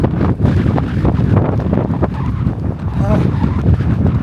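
Strong wind buffets the microphone during a long-distance run, a loud, rough roar that stays constant throughout while people talk over it.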